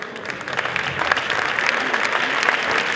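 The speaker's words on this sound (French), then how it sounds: "On les applaudit encore." Lively audience applause for young athletes at a regional sports awards ceremony in France. Loud, close clapping builds slightly and holds steady, with scattered sharper claps standing out in the mix.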